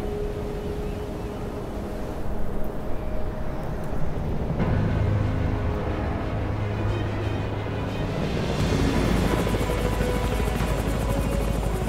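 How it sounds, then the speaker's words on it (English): A helicopter from the Dakar Desert Rally video game drones continuously with a steady rotor hum, the engine noise swelling and growing brighter partway through, with no voices over it. "Oh God, the helicopter is from Quebec."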